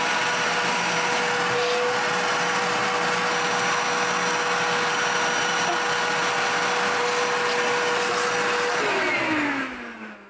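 A Hyper Tough shop vacuum from Walmart runs hooked to the dust shoe of a FoxAlien XE Pro CNC machine, a loud steady whine and roar that holds for about nine seconds, then winds down in pitch as it powers off.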